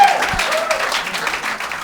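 An audience applauds comedian Big Jay Oakerson at a New York stand-up comedy show: dense, steady clapping fills the room, with a few voices mixed in under it.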